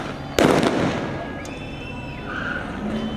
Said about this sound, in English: Look at them. It's fireworks.